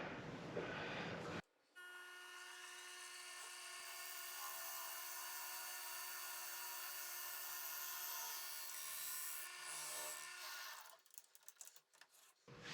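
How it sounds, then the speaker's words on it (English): A 22 millimeter Forstner bit drilling out a workpiece, a steady high whine and grinding hum lasting several seconds before spinning down, with handling noise at the start and end. "Now we just drill him out."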